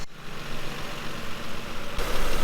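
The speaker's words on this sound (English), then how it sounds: "Now this is a big 4-liter V6." A 2016 Nissan Frontier's 4-liter V6 idles steadily up close, a constant low rumble that grows slightly louder near the end.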